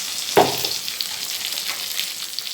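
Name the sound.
onions frying in mustard oil for begun sorshe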